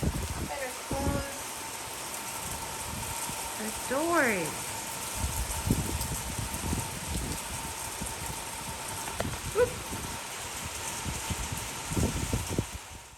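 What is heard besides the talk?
heavy rain falling outside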